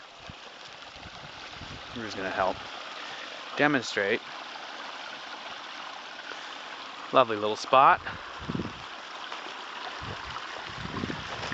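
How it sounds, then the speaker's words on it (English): A small spring-fed brook on a north-facing slope babbles and trickles as a constant, soft outdoor rush, while someone talks over it in short phrases. "Sounds of the babbling brook."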